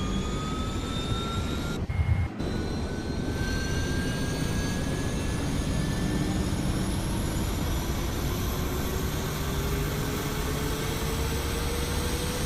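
Jet engine of a PMDG 777-300ER spooling up in a flight simulator, a steady broadband roar with rising whine tones that climb in pitch across the clip, loud and continuous with a brief dip near the start.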